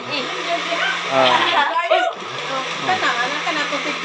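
A blender motor whirs steadily throughout, with a brief drop in the middle, while voices chatter and laugh over it at a family fiesta in the Philippine provinces.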